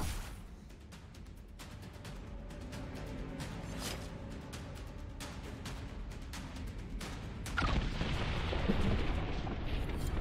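A distant explosion in the Dragon Age Inquisition video game, heard as a dense rumbling barrage of booms and crackling blasts that swells louder toward the end, with no voices over it.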